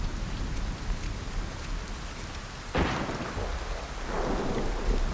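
Rain and thunderstorm weather in the video game Cairn, a steady downpour with a sudden loud thunderclap midway that rumbles on, then heavier rain swelling toward the end.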